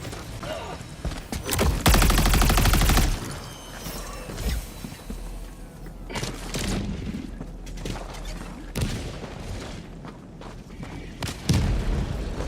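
Helldivers game combat: loud grenade blasts and bursts of gunfire, a heavy roaring explosion early, then scattered booms and rattling shots throughout.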